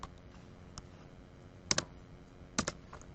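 Typing on a computer keyboard, a few sparse, crisp key clicks with two quick double taps, close and quiet over a soft room hiss.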